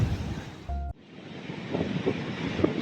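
Sea waves washing in at a river delta beach, a steady broad roar of surf with gusts of wind buffeting the microphone, one brief tonal hum near the start, no talking.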